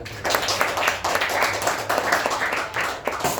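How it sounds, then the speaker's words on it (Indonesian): Classroom students clap for a presenting discussion group, a steady patter of many hands from a small group, fairly close and continuous throughout with slight swells and dips. "boleh kasih tepuk tangannya"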